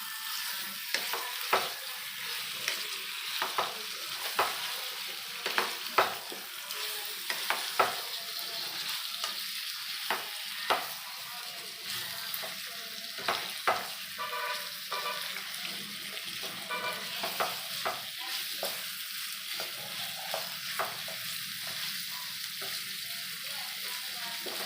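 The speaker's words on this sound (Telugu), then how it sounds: "సో అన్ని వైపులో చక్కగా కలిపేసుకుందాం చికెన్" Chicken pieces are stirred and mixed in a hot pan for a homemade chicken curry, with a steady sizzle under repeated scraping strokes and clacks of the spoon at an irregular rhythm.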